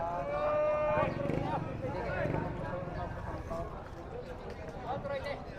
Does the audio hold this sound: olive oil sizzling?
no